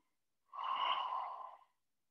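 A single long, close breath during a hatha yoga session, an airy exhale lasting about a second, alone in otherwise quiet surroundings.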